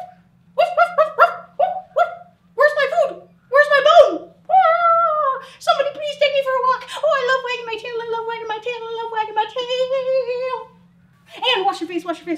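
Several people imitate a dog barking, a run of loud voiced barks, yips and whimpers in quick bursts with a short gap before a final few.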